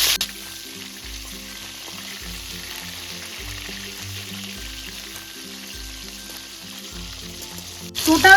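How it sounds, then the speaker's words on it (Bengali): Chicken pieces fry in a pan over a low flame, giving a steady, even sizzle with soft rhythmic pulses, ending in a brief louder clatter. "তোমরা এখানে আট মিনিট মতো লো ফ্লেমে মাংসগুলোকে ভেজে নেবে"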